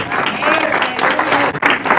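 Church congregation applauding together in a dense, steady wash of clapping and crowd noise that stays loud throughout, with a brief dip near the end.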